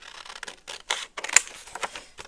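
Scissors snip pictures out of a book for a collage, a quick run of close, crisp cuts in short irregular bursts with a sharper snip near the middle, alone without talk.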